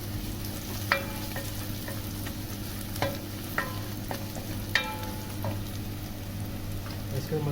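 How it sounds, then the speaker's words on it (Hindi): Finely chopped garlic fries in a pan with browned onions, giving a steady hiss of sizzling oil broken by occasional sharp scrapes and clicks of stirring, close and continuous. "इसके अंदर सबसे पहले लहसुन जाएगी, लहसुन को थोड़ा पकाएंगे।"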